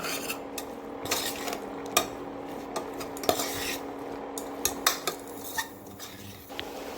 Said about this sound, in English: Now let's add 2 tomatoes finely cut and saute them for a while